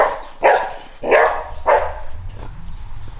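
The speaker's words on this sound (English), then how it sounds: "Dogs are spazzing out." Several dogs bark loudly in a street in an Argentine neighbourhood, three strong barks in quick succession followed by fainter, more distant barking over low background rumble.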